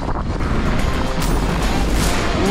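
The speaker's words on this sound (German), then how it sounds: "da ist der Wind." Strong wind buffets the microphone at a mountain bike park in Leogang in a continuous loud roar, with gusty rushing noise throughout and no other clear sounds.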